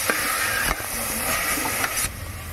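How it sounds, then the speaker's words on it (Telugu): Spices frying in oil in a pan for aloo biryani give a steady, close sizzle and hiss, with a few sharper clicks of stirring breaking through the constant frying noise. "బాగా వేయించుకుంటాము."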